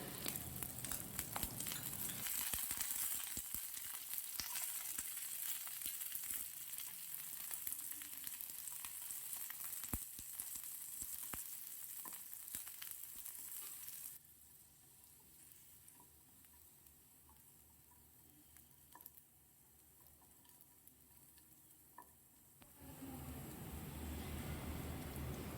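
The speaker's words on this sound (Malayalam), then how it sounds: "ഇനി അതിലേക്ക് ചെറിയ ഉള്ളി, കറിവേപ്പില, പച്ചമുളക് നടു കീറിയതും കൂടെ ഇട്ട് ഒന്ന് മൂപ്പിച്ചെടുക്കണം." Shallots, curry leaves and slit green chillies fry in coconut oil for a Kerala varutharacha chicken curry, giving a steady close sizzle with stirring scrapes that dips quieter midway and rises again at the end.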